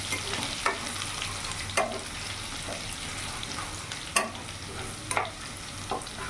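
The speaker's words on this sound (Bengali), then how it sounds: "রসুনটা আমি ভাজা ভাজা করে নেব।" Crushed garlic fries in hot oil with whole tempering spices in a pan, a steady close sizzle broken by about five sharp spoon strikes as it is stirred.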